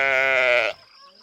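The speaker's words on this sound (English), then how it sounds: "Aw, 3 lovely sheep." A single loud, close sheep bleat, a sustained wavering cry that stops abruptly, followed by near silence.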